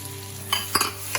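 Minced onions and cubed tomatoes with ginger being stirred in a hot frying pan: a steady sizzle with a few scraping stir strokes, close and alone.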